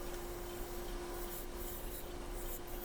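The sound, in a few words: skew chisel cutting wood on a lathe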